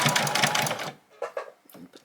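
A sewing machine stitches a fabric hair bow at a quarter-inch seam, running in a steady loud burst for about a second before stopping, followed by softer handling noises and brief bits of speech.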